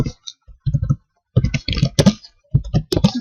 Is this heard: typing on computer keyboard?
yes